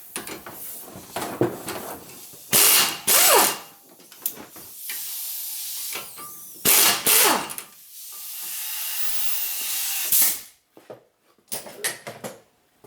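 Caliper bracket bolts come off the brake of a Chevrolet Malibu during wheel bearing work, with bursts of hissing and ratcheting impact-tool noise, metallic clanks and handling knocks, close and irregular, with no talk.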